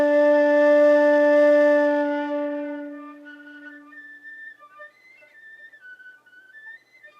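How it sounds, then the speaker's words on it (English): A whistle plays sustained tones in D in the first octave, with a strong held note first, then shorter notes moving up and down, clear and close with no talking. "One more time, whistle tones in D, first octave."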